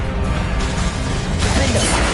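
A Depulso force spell cast in Hogwarts Legacy gives a dense crashing, whooshing burst over steady game effects and background rumble, loud and continuous through the moment.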